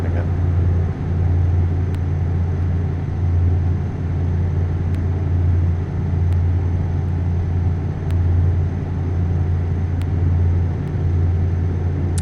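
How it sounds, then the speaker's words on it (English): A heavy truck in a truck simulator game slowing under its retarder: a steady, deep engine drone and rumble continues evenly throughout, loud and close. "as soon as you let off the accelerator, the retarder will kick in again"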